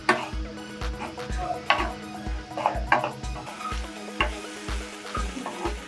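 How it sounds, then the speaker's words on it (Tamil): Elephant foot yam pieces frying in a pan for a quick Tamil-style fry, stirred with a spatula in steady repeated scrapes over a constant background sizzle, close and moderately loud. "நம்ம பக்கத்துலேயே நின்று இப்படி பரட்டி விட்டுட்டே இருங்க."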